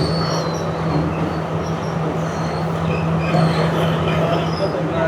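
A Sri Lanka Railways train rolls along the tracks near Ragama Junction, a steady, dense rumble with a low hum and faint squeals, heard from on board and continuous throughout.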